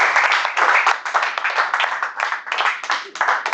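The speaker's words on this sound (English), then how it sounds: "when people are coming up, we're clapping" Warm applause fills a Toastmasters meeting room, many hands clapping steadily for a few seconds, loud and close, with no pauses.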